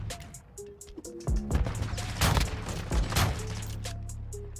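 Bryson 800 shotgun blasts in Modern Warfare 2 boom heavily and close, a handful of sharp bursts with brief gaps, over a low hum of game ambience.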